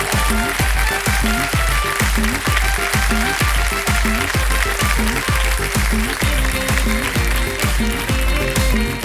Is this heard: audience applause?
yes